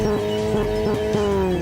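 A car engine revving steadily in the Steins;Gate 0 video game, a loud sustained drone with rising and falling harmonics and rhythmic pulses, heard alone and close.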